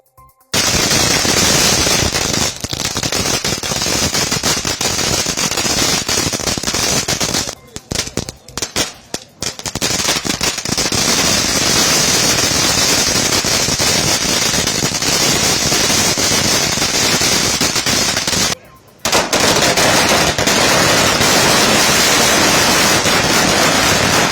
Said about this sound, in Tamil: பல வண்ண பட்டாசுகளை வெடித்தும் மக்கள் தீபாவளியை கோலாகலமாக கொண்டாடினர்